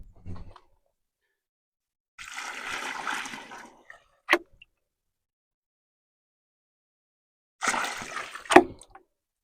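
Water is poured into a fresh concrete-filled post hole for a trellis post. It comes in two splashing bursts separated by quiet gaps, each followed by a short sharp knock.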